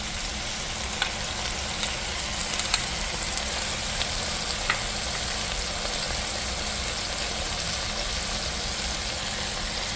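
Green seasoning goes into a pot of Caribbean stew chicken with cherry tomatoes, and it sizzles in a steady, even hiss under a low background hum, with a few faint clicks of stirring.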